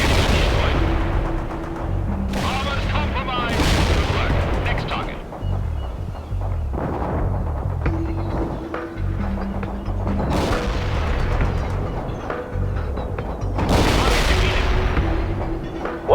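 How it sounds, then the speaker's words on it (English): Tank cannons firing armor-piercing rounds in the World in Conflict game, loud repeated booms and blasts spaced a few seconds apart over a constant battle din, with radio voices speaking between shots. "Armored fire AP rounds at the target."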